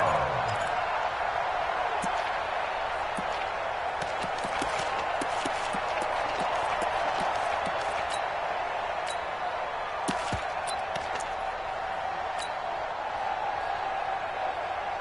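A stadium crowd in a football video game makes a steady, sustained roar with scattered sharp pops and claps, building toward a big third down. It stays loud and continuous throughout.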